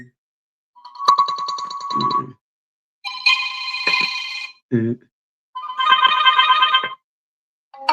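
Several phone text notification tones previewed one after another, bright chiming ringtone bursts separated by short pauses, with a brief murmured voice between them.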